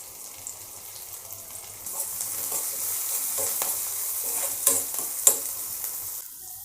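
Onions fry and sizzle in a pan while being stirred, a steady hiss broken by scraping stirs and a few sharp clinks, close and alone, for a Tamil peerkangai kadayal recipe.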